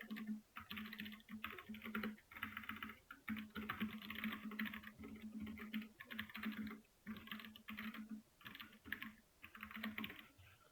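Steady keyboard typing on a computer keyboard while Java code is entered in a programming lesson, with quick clattering bursts of keystrokes broken by short pauses. The sound is close and moderately quiet, and no one speaks over it.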